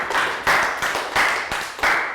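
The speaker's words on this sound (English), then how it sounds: "Round of applause for Prel." A Year 3 maths class applauds a student in a lively burst of clapping, with the claps gathering into a few rhythmic surges over about two seconds. The sound is close and moderately loud, with no talking.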